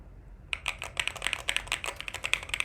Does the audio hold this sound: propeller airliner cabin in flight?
no